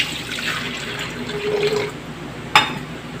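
Water pours from a tap into a blender container while cooking beef steak, a continuous splashing fill that rises and fades, ending with a sharp knock or clink.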